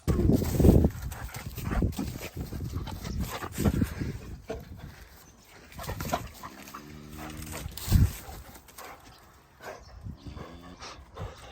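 A dog on a farm snuffles, pants and moves about close by, with a few short whines and some clattering in between, and no one talking.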